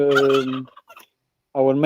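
Farm poultry from a flock of about 100 ducks and 50 chickens call out nearby, giving two loud gobbling bursts separated by a brief pause with faint clucks in between.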